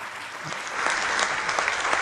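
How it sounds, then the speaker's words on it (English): An audience at a school concert claps warmly for the performing children, a dense, even wash of applause that holds steady and grows slightly louder over two seconds. "I think they deserve a second round of applause."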